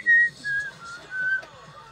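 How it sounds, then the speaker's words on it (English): A person whistles a few short, clear notes in a brief sliding phrase, close and alone with no talking. "I'm sorry for whistling"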